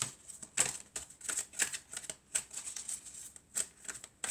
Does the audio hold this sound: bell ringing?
no